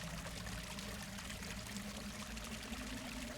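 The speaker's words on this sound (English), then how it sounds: "the sound of flowing water graces your ears." Flowing water rushes and trickles steadily as a continuous soft background sound effect for a tabletop fantasy scene, with no voices.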